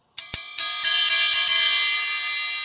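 The bell of a Sabian Quiet Tone low-volume cymbal struck several times in quick succession, each ping bright and metallic, leaving a close, sustained shimmering ring that slowly fades.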